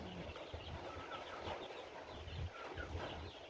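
A chicken clucking in its coop on a farm, soft scattered clucks and rustling, faint and at a distance, with no voices over it.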